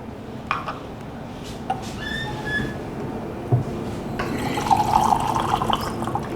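Running tap water pours and splashes into a container, the flow growing fuller and brighter toward the end, with a faint squeak and some background noise.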